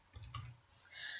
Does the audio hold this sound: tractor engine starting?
no